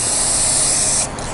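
A spray can lays a second coat of paint onto a Benjamin Prowler .22 air rifle, a loud, close, continuous hiss that dips briefly near the end.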